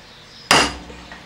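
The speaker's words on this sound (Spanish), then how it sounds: "con el punzón y el martillo, despacito, vamos poniendo el punzón, vamos golpeando." A hammer strikes a metal punch to engrave metal, giving one sharp metallic tap that rings briefly, close and alone in a quiet room.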